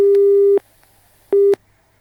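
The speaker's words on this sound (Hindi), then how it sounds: "शायद फोन काट चुके हैं।" Telephone busy tone after a hung-up call: two loud, steady electronic beeps, the first about half a second and the second shorter, separated by a silent gap.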